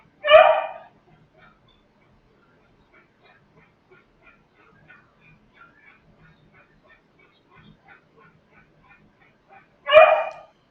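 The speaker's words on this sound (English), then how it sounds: "You can hear the panting, and obviously when he barks." Two sharp dog barks, one at the start and one at the end, with faint soft panting-like puffs in the quiet between them, from a dog in discomfort with IVDD.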